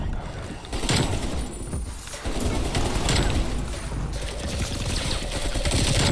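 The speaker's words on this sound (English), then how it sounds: "I'm shooting this guy." Rapid gunfire bursts from Call of Duty: Black Ops Cold War multiplayer, loud and dense throughout, with overlapping shots and game effects filling the mix.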